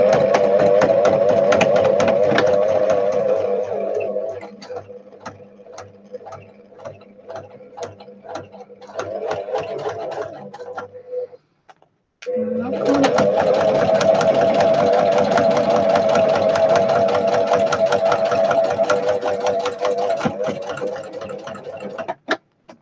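A home sewing machine runs with a steady mechanical whir and fine rapid ticking. It cuts out for about a second partway through, then starts again and carries on at the same pace.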